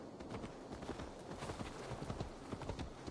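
A horse walks in Assassin's Creed Valhalla, its hooves clip-clopping in a rapid, steady patter that stays close throughout, faint overall and with no voices.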